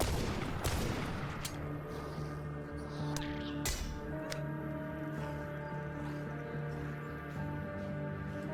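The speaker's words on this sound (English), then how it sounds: "Let's lead with the shotgun." Shotgun fire in the zombie survival game The Last Stand: Aftermath: several sharp blasts at irregular intervals, each cracking over a steady droning tonal background, with no speech.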